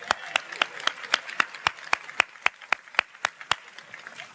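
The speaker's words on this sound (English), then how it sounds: "Vince, we'll clap for you one more time" Clapping for a student at a graduation celebration: steady, evenly spaced, rhythmic hand claps, about four per second, close and moderately loud, with faint voices underneath.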